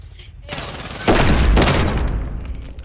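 Video game gunfire erupts in a dense burst of rapid shots, loud and close, lasting about two seconds before trailing off.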